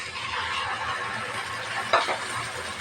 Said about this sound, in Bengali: আদা রসুন বাটাটা আগে একটু ভালো করে ভাজিয়ে নেব